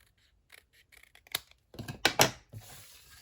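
Scissors snip through paper for a handmade multi-pocket tag, a few light trial cuts followed by several louder, crisp close-up snips, with brief pauses between them.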